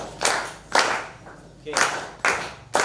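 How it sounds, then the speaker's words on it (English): Students in a physics class clap their hands in short bursts, four or five separate rounds of clapping spaced about half a second apart, close by, with a voice speaking briefly between them. "Can you clap hands for Regan?"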